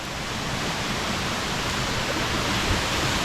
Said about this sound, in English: This is the base of that cascade.